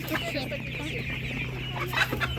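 Master Grey and Spanish laying hens and chicks for sale at an animal market cluck steadily and close by, with a louder burst of clucking near the end over a constant low market hum.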